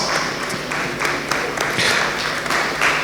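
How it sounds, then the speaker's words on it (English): Audience applause at the 8th Nigerian Diaspora Investment Summit as a senator is welcomed to the stage, a steady patter of clapping from a sizeable crowd, moderately loud and continuous throughout. "please give him a round of applause"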